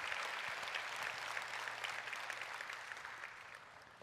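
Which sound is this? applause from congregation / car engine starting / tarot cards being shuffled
applause from congregation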